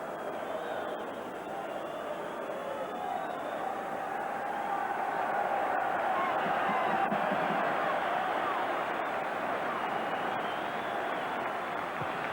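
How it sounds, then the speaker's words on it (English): Sustained stadium crowd applause and murmur at a 1986 Scottish football match, Rangers versus Hearts, steady and broad, swelling slightly midway, with a distant roaring quality throughout. "So the applause you hear now is for Ian Durrant limping round the pitch"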